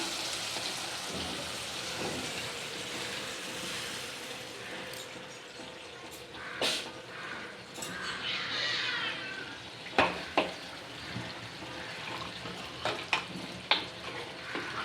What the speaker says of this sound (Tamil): கத்திரிக்காய் வெங்காயம் போட்டு இப்போது தாளிப்பு எடுத்து நம்ம இதில்